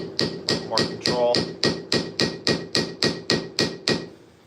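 A metal hammer taps brass pins set on an anvil in a steady series of about fourteen sharp, ringing strikes, close and evenly paced, the last blow fading out.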